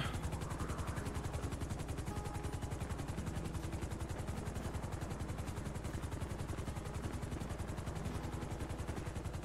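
Steady, loud rotor chop of a helicopter in a video game, a fast even thudding pulse with engine whine that runs the whole time with no pauses and no voices.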